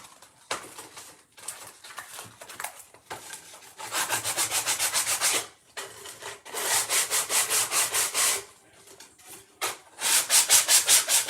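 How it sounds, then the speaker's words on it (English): Hand sanding along the edges of a wooden door hanger makes rhythmic back-and-forth scratchy strokes in several loud bursts with brief pauses, close up and without speech. "I'm going to actually sand it a little bit more on the edges, kind of give it that worn look"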